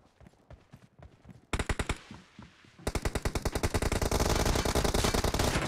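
Video game gunfire in a team match, a short burst of shots followed by rapid, sustained automatic fire that grows louder and denser, with no talking.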